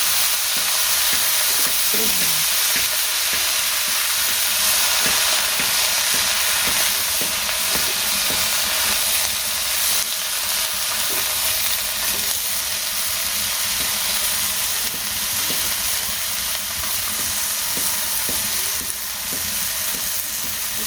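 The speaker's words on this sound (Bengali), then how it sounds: "আলু কপি বেগুন সব ভাজা একটু মিক্স করে ভেজে নিই" Potato, cauliflower and eggplant fry together in a pan, a loud continuous sizzle with frequent scraping stirs and clicks throughout, no voices.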